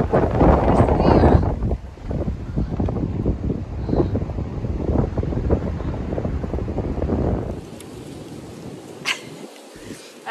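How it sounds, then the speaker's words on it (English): Strong wind buffets the microphone at a mountain viewpoint along the Appalachian Trail, a loud continuous rumble that eases near the end, leaving quieter rustling and a few knocks. "It's really windy here."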